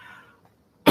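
A single sharp, loud cough bursts out at the very end after a near-silent stretch, cut off as the sound ends.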